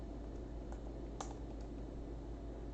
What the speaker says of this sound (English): so just typing that for the folks in the chat